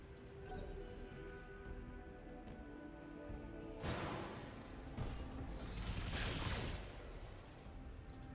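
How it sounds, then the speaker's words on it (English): Battletech mechs fire all weapons at once: after a low, quiet mechanical rumble, a broadband volley bursts out, then a longer rolling barrage of blasts and impacts swells and fades. "Firing all weapons."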